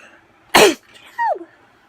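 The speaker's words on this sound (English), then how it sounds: "I don't know why I've been sneezing." A single sharp, loud sneeze bursts out, followed a moment later by a brief voiced sound, likely a short exclamation.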